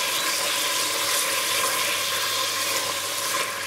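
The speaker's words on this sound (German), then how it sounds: "Also die Butter einmal darin anlösen." Butter sizzles and crackles steadily in a hot pot as it melts for braising sage chicken, a dense continuous frying hiss with no voices.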